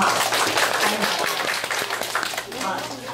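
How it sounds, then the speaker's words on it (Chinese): An audience at a weekend public science event claps to welcome first-time participants, steady mixed applause with voices talking over it. "我们旧朋友鼓掌欢迎他们"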